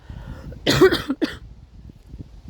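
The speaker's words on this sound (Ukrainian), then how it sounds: "і кашель мій" A single harsh cough followed by a shorter second cough, fairly close, over quiet outdoor background noise.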